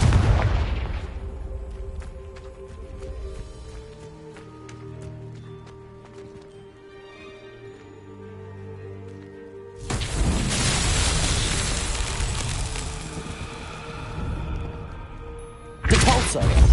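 Hogwarts Legacy Confringo explosion spell: loud, bright bursts strike at the opening, again around ten seconds with a sustained roar, and once more near the end, with quieter game music and ambience between.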